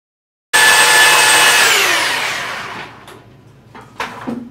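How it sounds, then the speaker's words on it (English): A belt sander starts abruptly and whines loudly while stripping glue from a Kreg Universal Bench top, then winds down over a couple of seconds, followed by a few brief knocks and handling sounds. "I went to the belt sander, which is the quickest, most aggressive way to clean this mess up"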